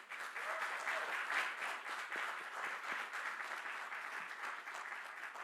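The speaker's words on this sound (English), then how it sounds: "Let's give them a round of applause." An audience at a university School of Public Health doctoral commencement and hooding ceremony breaks into continuous applause, even, fairly distant clapping filling the hall without pause.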